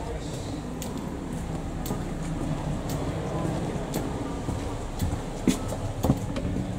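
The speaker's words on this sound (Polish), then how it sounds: "I nasza lokomotywa 9." A railway locomotive rumbles steadily at moderate distance, a low continuous drone with faint clanks and ticks near the end.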